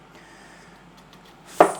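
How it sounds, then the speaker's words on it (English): A single loud, close knife chop on a cutting board during home meal prep, landing sharply near the end after a quiet stretch with faint background hum. "let's just get to chopping"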